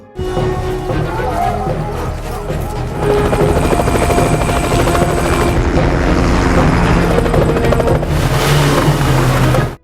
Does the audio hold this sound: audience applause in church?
no